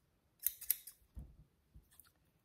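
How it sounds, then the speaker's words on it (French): Large scissors snipping through paper for a collage, two sharp close cuts in quick succession followed by a few softer rustling snips, quiet and isolated. "je découpe toujours avec ces grands ciseaux-là, mais c'est impressionnant comme ils découpent bien"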